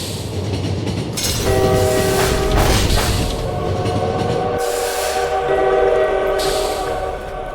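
A train from the video game Lobotomy Corporation roars past loudly, with a long horn blast and a steady rumble. Sharp bursts of high clatter come through as it goes by, and then the horn sounds a second time.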